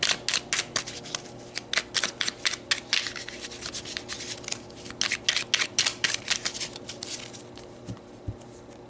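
A tarot deck being shuffled by hand, a fast run of crisp papery riffles and brushing card slides, close and fairly quiet, with no talking.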